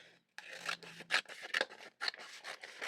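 Scissors snip pictures out of retail store magazines, close up: a run of dry rasping cuts with short pauses, some sharper clicks of the blades closing, and no voices.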